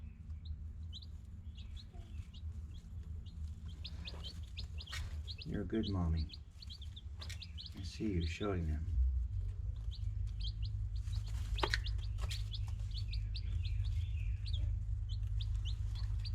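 Faint, rapid high peeping of small chicks in a chicken tractor runs throughout, with a soft clucking hen and a person speaking gently partway through.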